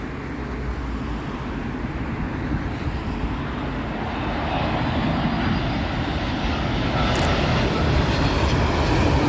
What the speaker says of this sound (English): let's have Etihad's Dreamliner on top of that as well. And this one obviously coming in from Abu Dhabi.